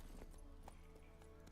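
Horse hooves clip-clop steadily in The Witcher 3 as the mount gallops, a dense, fast rhythm of hoofbeats over continuous game ambience.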